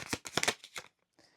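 Tarot cards being shuffled close up, a few quick riffling bursts of papery flutter followed by a soft tap as the deck settles, fairly quiet.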